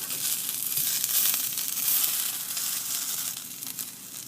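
Meatballs fry in a pan with a steady, bright sizzle and crackle that stays even throughout, with no talking.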